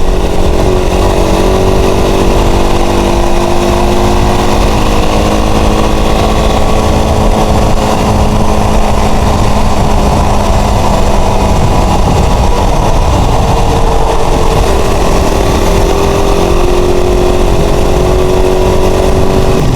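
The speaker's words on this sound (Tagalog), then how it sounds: "big bike yung nasa likod natin" A big motorcycle rides behind on a road, its engine droning and revving steadily with rising and falling tones over continuous loud road and wind noise, and no one speaks.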